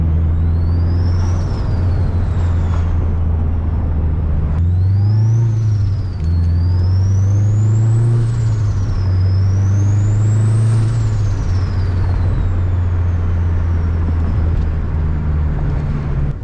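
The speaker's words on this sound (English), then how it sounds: "it'll just mainly be the sounds of the car" A turbocharged Honda Accord with a K24 engine drives along, its engine droning and rising and falling through gear changes, with a high turbo whistle climbing and dropping over the steady road noise, heard from inside the car.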